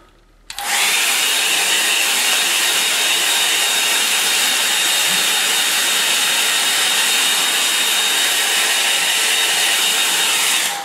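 Loud, steady hair dryer blowing on a watercolour painting of wet-in-wet foreground rocks, switching on abruptly and roaring continuously close by without talk.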